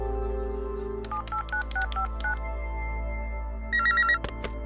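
A telephone on speakerphone being dialed, with a quick run of keypad tones followed by a warbling electronic ring, loud and close over a low background hum.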